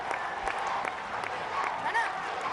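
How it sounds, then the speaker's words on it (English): A cricket crowd at a South Africa versus Sri Lanka test match in Sri Lanka claps in a dense, steady patter of applause, heard at a distance with a few faint whistles and shouts over it. "The crowd are getting involved. They're clapping."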